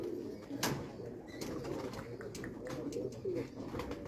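Pigeons of a rare old breed, some fifty to sixty years old in lineage, coo softly in a loft with low, murmuring calls, joined by a few sharper chirps and faint background rustle.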